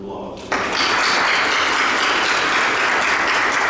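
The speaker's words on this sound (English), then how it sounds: "let's give them a round of applause." An audience at an Illinois Law Enforcement Training and Standards Board meeting bursts into a loud, sustained round of applause after a brief quieter moment, with dense clapping filling the room.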